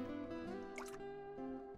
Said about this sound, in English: We're scooping out water.